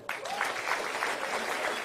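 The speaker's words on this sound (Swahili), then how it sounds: "Mpigie makofi." An audience claps for a guest at a public gathering, a brief burst of dense applause from a crowd that holds steady for about two seconds.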